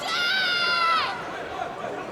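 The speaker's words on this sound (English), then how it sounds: "The corner of Marshman shouting instructions" At a BAMMA 11 MMA fight, a cornerman's single loud, sustained shout carries over a hum of crowd chatter, then fades into the background murmur of the arena.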